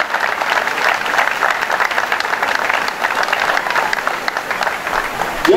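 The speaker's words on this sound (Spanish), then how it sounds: "un fuerte aplauso para todos ustedes que rompieron un nuevo récord" A crowd at a 10K road race in Reconquista breaks into steady, dense applause that holds throughout, loud and continuous, with a faint voice underneath.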